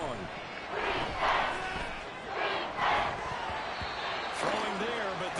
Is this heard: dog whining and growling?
no